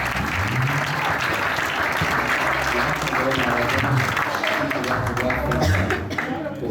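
A church congregation at a revival crusade applauds loudly and continuously, dense clapping filling the room while voices cry out and speak over it throughout.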